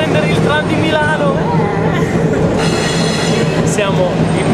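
Inside a moving Milan tram, a steady loud rumble of wheels on rails carries faint squeals and clatter, with people talking over the noise.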